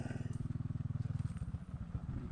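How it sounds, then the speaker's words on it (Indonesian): A motorcycle ridden by a villager coming back from cutting grass passes close by, its engine putting out a steady low, pulsing thrum that fades slightly as it goes, with a faint voice underneath. "ada motor lewat nih, warga yang habis ngambil rumput para sahabat"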